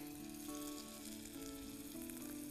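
Sambar masala, chili powder and turmeric frying and being stirred in a pan for sambar, giving a steady close sizzle with a faint tonal hum underneath, continuous and without speech.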